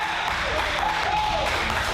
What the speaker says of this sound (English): Can we fucking clap?